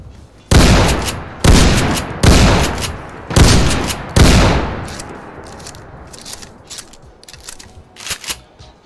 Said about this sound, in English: My favorite modification is the explosive buckshot